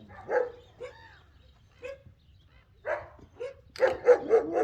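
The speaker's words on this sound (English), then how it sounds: "Excuse the noise, the kennel's getting woken up here." Several dogs in a kennel bark and yip in scattered bursts, a few single barks early, then a rapid cluster of loud overlapping barks near the end, with no voices.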